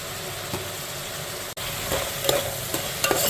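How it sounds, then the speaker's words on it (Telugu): Ginger garlic paste with coriander frying in hot oil for dum biryani, a steady close sizzle with stirring scrapes and a few brief clinks, with no voices. "ఇవన్నీ ఇలాగా ఫ్రై చేసేసుకుని మళ్ళీ చూపిస్తాం"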